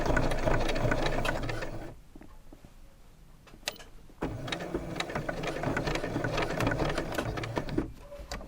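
A sewing machine stitches through thick patchwork quilt layers in steady rapid bursts, pausing briefly midway as the needle slows on the bulky seam, then whirring on again close by without talk.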